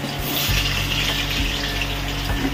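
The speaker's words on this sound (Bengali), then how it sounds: "মা এখন আলুগুলো দিয়ে দিয়েছে এবং লাল লাল করে ভেজে নেবে।" Potatoes sizzling in hot oil in a home kitchen pan, a steady dense frying hiss with low crackle running throughout, close and fairly loud, with no voices.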